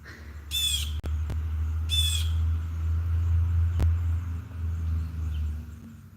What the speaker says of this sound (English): That is a blue jay in the background.